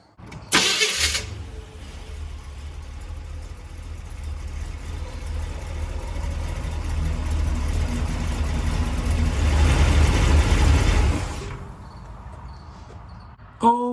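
A Chevy 350 V8 in a C3 Corvette cranks and fires with a sharp burst, then settles into a deep, steady idle that swells slightly before the engine shuts off near the end.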